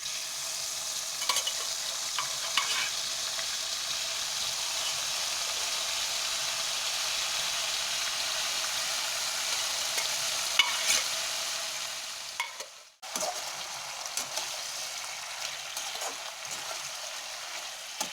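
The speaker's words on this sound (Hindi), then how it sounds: "हम अब इसमें नदरू फ्राई करेंगे जैसे कि आप देख रहे हैं" Lotus stem (nadru) frying in hot oil gives a steady, dense sizzle that holds for most of the stretch, drops out briefly near the end, then resumes slightly softer with a few light stirring clicks.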